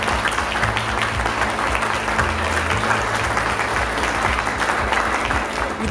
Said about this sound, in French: mesdames et messieurs, applaudissons nos sentinelles de rue